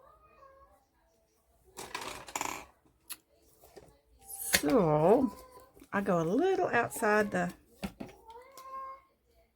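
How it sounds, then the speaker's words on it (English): A pet cat meows repeatedly indoors, loud drawn-out wavering cries close by, alternating with someone talking in between. "listen to that cat"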